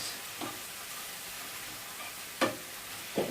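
Peas go into a pan where onions and meat fry on slow heat, giving a steady soft sizzle broken by a few sharp clatters of spoon or pan.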